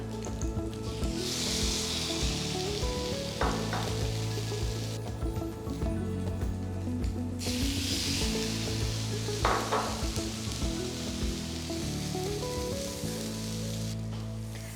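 Egg-soaked bread fries in a buttered pan for French toast, giving a constant, moderate sizzle under background music.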